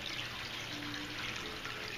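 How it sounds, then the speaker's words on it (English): Water flows steadily over a hand-sculpted pumice stone tabletop fountain, a soft continuous trickle and babble heard close and alone without talk. "The flow of the water"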